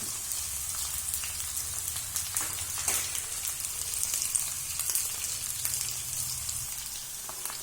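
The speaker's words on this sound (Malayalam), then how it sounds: "ഇപ്പോൾ ഇവിടെ മീൻ നന്നായി ഫ്രൈ ആയിട്ടുണ്ട്." Fish pieces frying in hot oil for a fish pickle, a steady close sizzle and crackle throughout with scattered pops, no talk.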